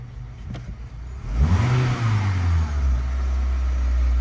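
A car engine with a fault that makes it stall and hunt at idle rises from a low idle into a swelling rev as throttle is applied, then settles into a loud, steady higher hum.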